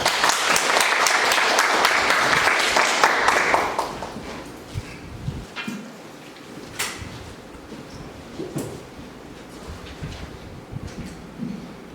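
An audience at a Korean economic forum applauds loudly for about four seconds, then the clapping thins out into scattered claps, light rustling and room noise.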